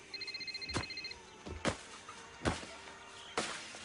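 A telephone rings in a room with quick electronic trilling bursts, then stops, followed by several dull thumps and knocks.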